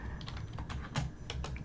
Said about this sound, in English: you're going to want to hit the tab key on your keyboard